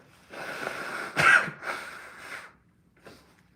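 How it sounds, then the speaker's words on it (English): Someone blows their nose in a few forceful nasal bursts, one sharp loud blast followed by softer honking exhales and a faint final sniff, close and with no talking. "Hold on, I need to blow my nose again."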